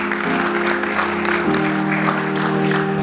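Congregation applauding and cheering in a church service, a steady dense wash of clapping and voices throughout, with a sustained organ or keyboard chord underneath that shifts pitch partway through.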